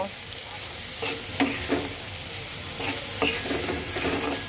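Soybean chunks being mixed with salt, ground coriander and turmeric powder in a pan. Steady stirring scrapes with a few sharper utensil clicks over a continuous soft sizzle, close and moderately loud.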